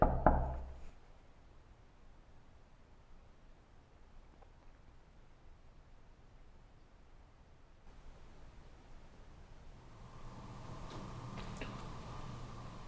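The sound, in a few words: single knock or tap in a haunted house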